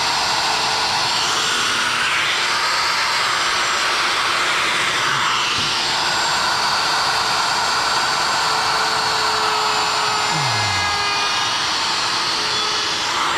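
A handheld wood router cuts a cove profile in a nightstand door on a jig, a loud high whining roar that holds steady with slight shifts in pitch as the bit works the wood, close by with no talking.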